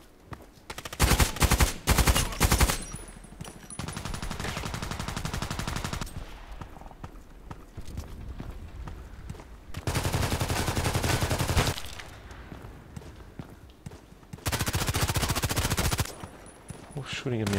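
Sniper and automatic gunfire in a shooter game, with several loud sustained bursts of rapid shots separated by quieter stretches and single sharp cracks early on.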